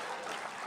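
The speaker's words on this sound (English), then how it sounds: "Yes, round of applause," A brief wash of audience applause at a non-profit awards event, dense and steady over a fraction of a second, moderately distant.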